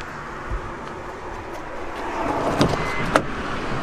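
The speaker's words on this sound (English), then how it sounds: "Motorized doors, which is pretty standard on a lot of vans these days anyhow" The motorized sliding door of a 2020 Mitsubishi Delica van gives a soft mechanical whir that builds, then a firm latch clunk near the end, heard close over light ambient noise.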